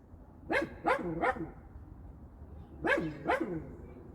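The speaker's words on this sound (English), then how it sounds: "her bark is bigger than her bite, but she definitely has selected certain neighbors to bark at" A female dog barks at the neighbours. Five sharp, fairly close barks come in two bursts, three quick ones and then two more after a pause, with no talking.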